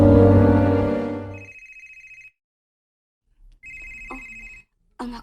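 A mobile phone rings with an incoming call, two short bursts of a steady electronic tone following a loud sustained sound, then a brief clatter and a voice at the very end.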